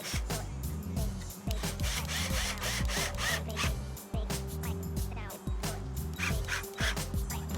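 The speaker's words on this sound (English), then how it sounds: "And then I screw the head casing into the sides." Wooden window head casing being screwed into the side casings during exterior window trim work on a thick foam-insulated wall, with busy, continuous knocking, scraping and driving noise from wood and tool, close and loud throughout.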